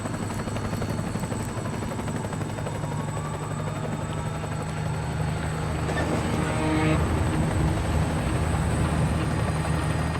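An unmarked military helicopter in Metal Gear Solid V: Ground Zeroes gives off a loud, steady rotor drone that continues unbroken and swells slightly toward the end.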